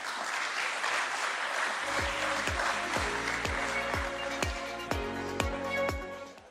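Applause at a stock exchange listing ceremony for Anthem Biosciences at BSE, a sustained round of clapping from a crowd, fairly loud and steady, alongside sharp repeated bell-like strikes ringing out in a regular rhythm.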